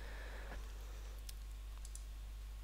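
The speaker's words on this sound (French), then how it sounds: "Je clique sur alignement" A computer mouse gives a few light, close clicks, with one sharper click standing out, over a quiet steady hum.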